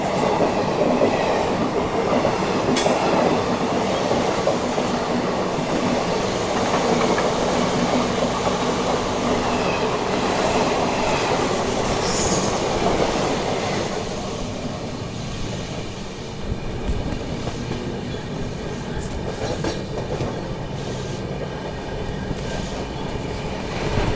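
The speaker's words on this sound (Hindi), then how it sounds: "ये अपनी ट्रेन देखो पहुंच रही है नर्मदा रिवर क्रॉस करने। बगल से ये कोई पैसेंजर ट्रेन निकल रही है।" Mumbai–Amritsar Paschim Express crossing the Narmada river bridge while a passenger train passes alongside, heard from on board as a loud, steady rumble and wheel clatter that eases slightly partway through.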